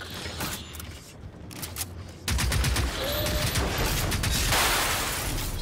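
Hostile robots firing guns in the video game Generation Zero, rapid bursts of loud automatic gunfire that grow denser and louder partway through, with sharp crackling shots.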